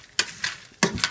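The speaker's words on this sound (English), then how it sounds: "now I'm adding the rice Chex square cereal. And I'll fry those" Rice Chex square cereal frying in a pan, heard as four short, loud sizzling bursts in quick succession, each with a bright, crackling hiss.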